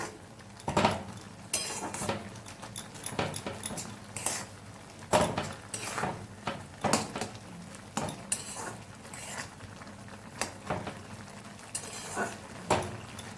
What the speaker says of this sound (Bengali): এগুলোকে সব কিছুকে একসাথে মিশিয়ে নিচ্ছি।